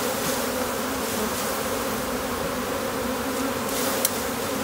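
A dense, steady drone of a medium-sized honey bee swarm in a tree, many bees buzzing together, close and continuous with no voices.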